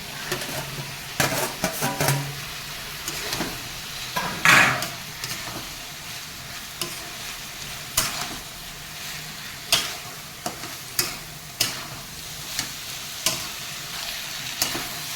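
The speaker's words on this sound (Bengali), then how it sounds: "এই যে ছোলা আর ওই জেরিগুলো যে ভেজে রেখেছিলাম এই উপকরণগুলো পালং শাকে আমি দিয়ে দেবো" Chickpeas and pre-fried snails stir-fried with spinach that has released its water, in a pan on the stove; a steady close sizzle with repeated sharp spoon scrapes and knocks against the pan.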